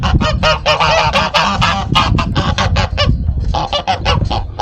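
A flock of geese honks loudly and continuously at a village fire station by a lake in Vila Nova de Oliveirinha, Portugal, many overlapping calls close by in a noisy, clamorous chorus.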